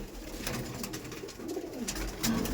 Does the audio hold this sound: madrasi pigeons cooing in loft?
yes